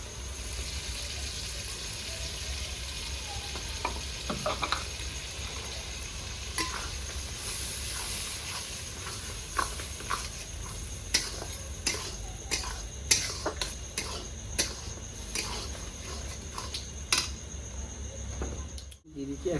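Mustard-poppy paste is stirred into cooked tomatoes in a pan, giving a soft, steady sizzle beneath repeated clinks and scrapes of a utensil against the pan, quicker toward the end, fairly quiet and close.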